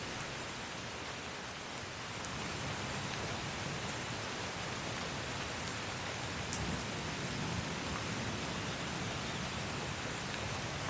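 Steady, dense rainfall hissing continuously throughout, a broad wash of sound with no voices.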